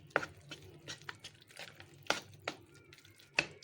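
Hand mixing of flour into a dough mixture for an egg-free, butter-free savory baton salé, with soft scraping and several sharp clinks of utensil against a bowl at an uneven pace, close by with no talk.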